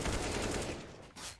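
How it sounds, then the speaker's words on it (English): A short, loud burst of gunfire from a P2000 pistol in a Counter-Strike match, likely a professional esports game, ends after about a second. "Shiro just P2000 headshot."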